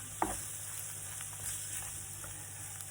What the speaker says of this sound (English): So we mix oil and flour